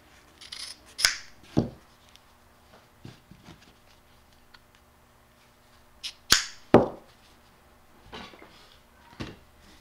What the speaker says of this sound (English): So just cut those strands off.